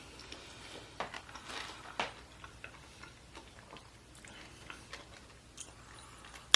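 Faint, close chewing and crunching of a bite of keto Reuben casserole with a crispy crust, soft irregular mouth clicks and crunches, no talk.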